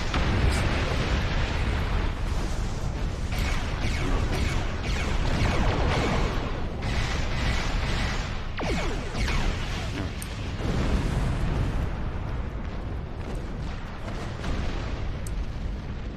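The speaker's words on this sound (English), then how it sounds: "Just explosions." Repeated explosions in the space combat game Star Trek Online, a dense run of booming blasts and bursts layered over continuous rumbling battle noise, moderately loud throughout.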